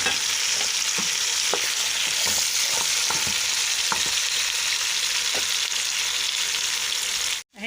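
Tomatoes and browned meat sizzle steadily in a frying pan for a tagine of beef head meat, a dense, close frying hiss with occasional soft stirring clicks and pops, alone without talk.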